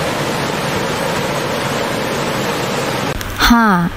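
River water flowing, a continuous broadband rush heard close and loud, ending with a short burst of another sound.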